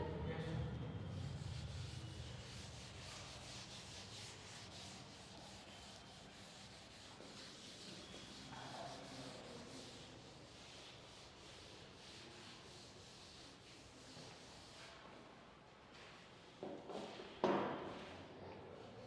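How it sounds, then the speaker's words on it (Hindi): Board eraser rubbed across a classroom board during a corporate finance lecture, a steady scrubbing rasp running through most of the stretch with faint room noise and a few light knocks near the end. "इसे मैं रब कर दूं"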